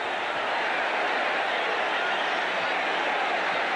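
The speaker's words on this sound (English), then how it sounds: "Miami players are trying to quiet the crowd down at that end of the field." A loud stadium crowd roars continuously at the Orange Bowl during a 1986 college football game between Miami and Oklahoma, a dense, steady wash of noise filling the stands.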